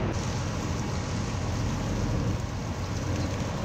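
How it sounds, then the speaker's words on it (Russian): Dirty wash water drains from a ship's exhaust gas boiler in a loud, continuous rushing and splashing that holds steady throughout. "Эта грязная вода стекает из утиля"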